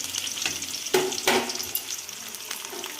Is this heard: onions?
yes